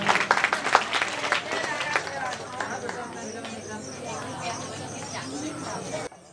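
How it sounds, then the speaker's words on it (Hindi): A crowd claps loudly to welcome a prize winner at a 2022 jasgeet competition award ceremony. The dense applause fills the first two seconds, then thins into scattered claps and crowd murmur. "जोरदार तालियों के साथ स्वागत करें।"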